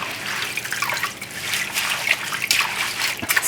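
Fresh parsley rinsed in a basin of water, lifted and dropped again and again, giving close, steady splashing and trickling with irregular sloshes.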